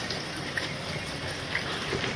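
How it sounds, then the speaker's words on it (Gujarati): Steady, even rain hiss fills the background throughout, with a few faint drips or taps standing out now and then. "વરસાદ ચાલુ થઈ ગયો."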